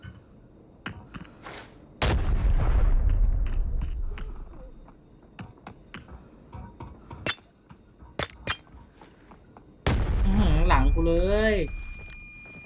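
Two heavy grenade explosion blasts with rumbling decay in the video game Arena Breakout, separated by sharp clicks and small impacts; a voice is briefly heard near the end.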